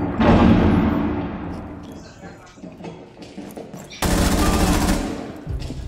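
Bursts of gunfire in the shooter game Rainbow Six Siege, loud and dense at the start, fading into scattered shots, then a second heavy burst, with no talk over them.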